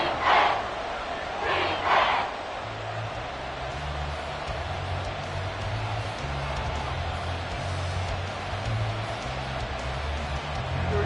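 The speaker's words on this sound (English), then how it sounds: "This crowd trying to force a false start here." A football stadium crowd roars continuously in a dense, sustained wash of noise during a late fourth-quarter game involving the Dolphins, with a few louder shouts rising early on over the steady din.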